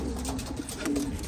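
Homing pigeon cooing after landing from a 50 km training release flight from Amberley, New Zealand; a soft, steady low coo runs through the short moment, close by with faint background noise and no talk.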